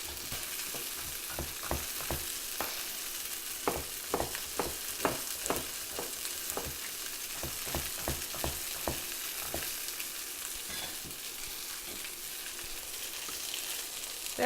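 Thinly sliced onion fries in a pan, browning but not yet crispy, a steady broad sizzle running throughout with a burst of sharp spatter-like crackles and clicks of stirring through the middle, then settling back to an even hiss.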